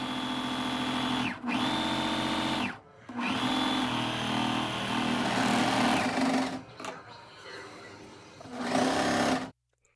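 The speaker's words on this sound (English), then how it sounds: "you hear that little whir of the sewing machine." A sewing machine runs in close, loud, sustained whirring bursts, stopping and restarting several times with short gaps, then a final burst before it falls silent.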